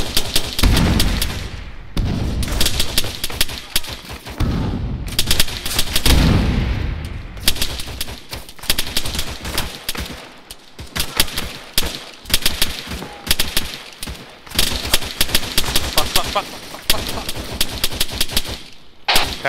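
Heavy gunfire fills a battle in ARMA 3 on Sahrani, with loud rattling bursts and rapid volleys of shots coming in irregular waves, punctuated by brief gaps, continuous and close throughout.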